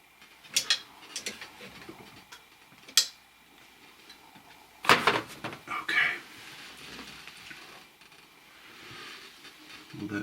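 Bolts on a Necchi 535 FA sewing machine are snugged up by hand, giving scattered ratcheting clicks and small metallic ticks, faint and close, with brief pauses between turns and no talking.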